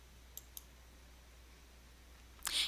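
A mouse clicks a refresh button, two small sharp clicks close together over a quiet room hiss, followed near the end by a louder brief burst of noise.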